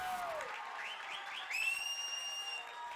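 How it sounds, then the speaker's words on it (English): A crowd at a Class C state tournament baseball game in Watertown cheers after an RBI double off the opposing lefty pitcher, a broad steady roar that swells midway with a few sharp whistles riding on top. "The Watertown crowd is going nuts as they get a big hit off the star lefty."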